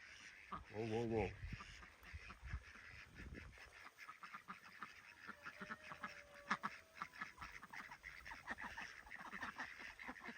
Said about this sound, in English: Ducks are just loving life.